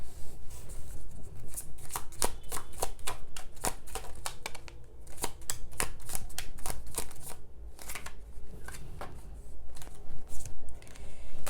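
Tarot cards being shuffled by hand, a rapid run of crisp riffling snaps and flutters in bursts with brief pauses, close and fairly loud, with no one speaking.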